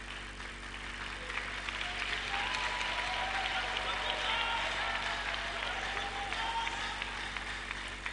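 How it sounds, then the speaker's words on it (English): A church congregation claps together in sustained, lively applause, a dense patter that swells slightly and holds steady over a low background hum. "Can we clap for this, madam?"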